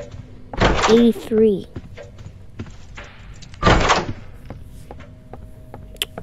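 Doors swinging open in the Roblox horror game Doors, two loud broad whooshing thuds about three seconds apart, with a gliding tonal effect after the first, while a player speaks over the game sounds.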